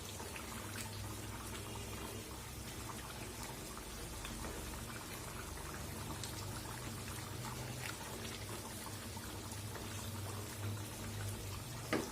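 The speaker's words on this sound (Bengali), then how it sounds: "আমি গরম পানি দিচ্ছি এখানে" Hot water is poured into cooking chicken curry, a faint, steady trickling pour with light bubbling that carries on throughout.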